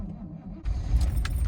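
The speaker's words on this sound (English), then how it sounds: "Old truck started" An old pickup truck's engine cranks and catches at about the midpoint, settling into a loud, steady low rumble with some rattling; a jingle of keys is heard just before.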